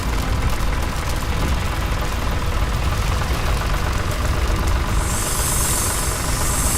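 Steady rumbling engine of a giant tractor in a Hindi cartoon story, a continuous loud mechanical drone with a rough, knocking texture, running alone without talk and joined by a hiss near the end.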